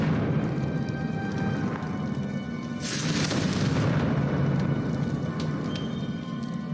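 A deep boom and crackling blast from the Confringo fire spell in Hogwarts Legacy. It swells suddenly out of a steady, loud rumbling game ambience and then fades back into it.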